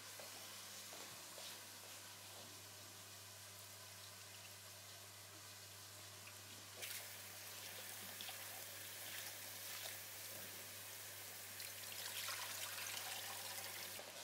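Soaked rice, steeped in hot salted water, is rinsed under running water in a kitchen: a steady, faint stream of splashing and trickling for about fourteen seconds, swelling slightly near the end, with no speech.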